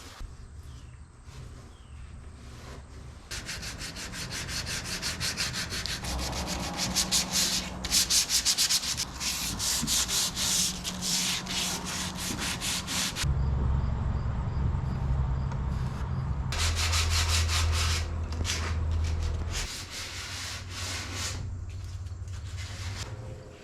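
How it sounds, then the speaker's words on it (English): Klean Strip liquid sandpaper deglosser is rubbed onto a wooden cabinet with repeated scrubbing strokes. The close, raspy swishing comes in rhythmic bursts, with brief pauses between passes. "This is clean strip liquid sandpaper, no mess, degreaser, deglosser."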